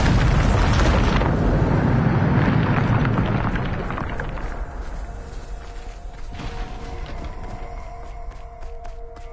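A Bombarda spell blast in Hogwarts Legacy, a loud, roaring explosion that rumbles heavily for several seconds, then thins into a lingering decay of crackling debris and faint ringing tones.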